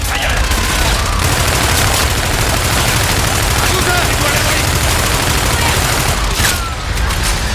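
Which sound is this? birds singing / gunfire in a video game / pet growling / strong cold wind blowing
gunfire in a video game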